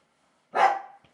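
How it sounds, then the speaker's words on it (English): A single sharp dog bark indoors at home, close and loud, with a short tail fading into quiet. "I have vocal dogs like myself"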